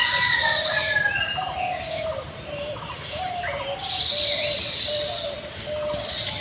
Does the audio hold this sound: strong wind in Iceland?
no